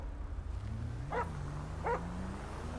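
Two short dog barks in a French police roleplay video game, spaced under a second apart against a steady low hum and faint background tones.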